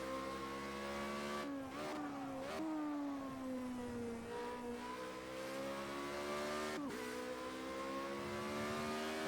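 A Formula Renault race car in the Project Cars 2 racing game drones steadily, its engine pitch rising and falling through gear changes and revs, loud and continuous with no talking.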